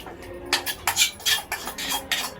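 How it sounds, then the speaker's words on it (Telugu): Biryani curry with onions and tomatoes being stirred in a cooking pot, a ladle scraping and knocking against the metal in several close, distinct strokes with short pauses between them. "ఇగో కూరలో కలిపేస్తున్నాను చూడండి."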